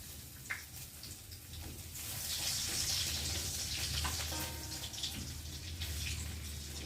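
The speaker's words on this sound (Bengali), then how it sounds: "কড়াটা গরম হয়ে গেছে। আর এখন আমি রসুনগুলো দেবো।" Garlic drops into a hot wok and bursts into a steady, loud sizzle that swells after a soft start and keeps hissing close by, with no voices.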